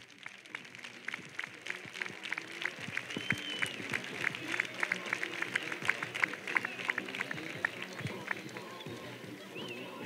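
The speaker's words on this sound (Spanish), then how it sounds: "También quiero que le demos un fuerte aplauso a ellos por la labor que realizan con todos los niños." Audience applause at a Spanish sports club's 2024-25 season presentation, steady dense clapping from a crowd throughout, fairly faint and mixed with voices.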